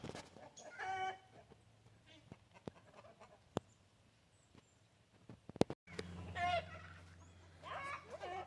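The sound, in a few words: chickens and turkeys clucking defensively in coop with owl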